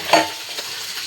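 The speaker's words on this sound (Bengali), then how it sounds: "মোরলা মাছের বাটি চচ্চড়ি বসিয়েছি" Mola fish bati chorchori cooks in a pan, giving a brief close sizzle with a quick stirring scrape, then a soft steady frying hiss.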